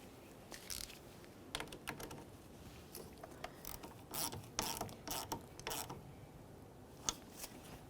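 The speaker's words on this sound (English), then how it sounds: "tighten your 10mm headed mounting nut" A ratchet clicks in short irregular bursts of sharp pawl ticks while tightening a 10mm battery terminal mounting nut on a 2010-2013 Ford Transit Connect, close and fairly quiet, with no talking.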